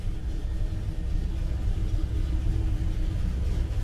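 A fuel-injected 1957 Chevrolet Corvette idles after starting, a loud, steady low rumble that stays close and continuous throughout, with no voices.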